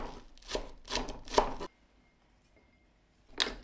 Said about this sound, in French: J'émince deux cives